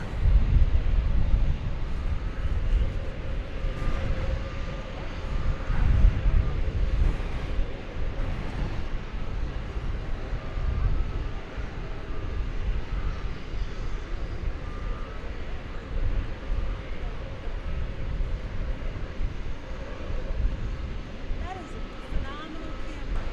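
An airliner, Flight 35 bound for New Zealand, takes off at night from DFW Airport, heard as a steady, loud low-frequency roar with wind buffeting the microphone throughout.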